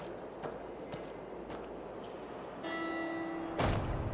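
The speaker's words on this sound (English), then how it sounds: "Bell's ringing." A bell tolls with a sustained ringing tone over a quiet, hollow ambience in the video game Where Winds Meet, followed by a sudden loud thump near the end.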